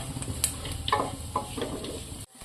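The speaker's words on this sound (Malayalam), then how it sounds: "നല്ലതുപോലെ ഒന്നും കൂടെ വഴറ്റിയെടുക്കാം" Vegetables for upma sautéing in a pan, with a steady sizzle, a few scattered stirring scrapes and clinks, and a sudden brief drop to near silence near the end.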